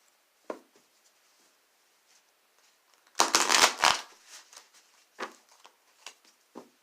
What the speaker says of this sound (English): All right, one more shuffle, then we'll get started.